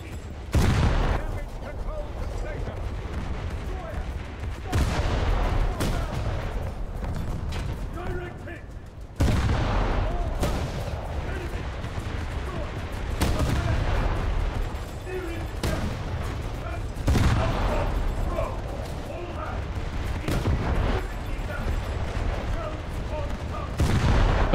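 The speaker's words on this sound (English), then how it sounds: "artillery strike, that's not good" A naval video game with British coastal craft, booming explosions and gunfire hitting at intervals over a constant engine rumble, with someone talking throughout.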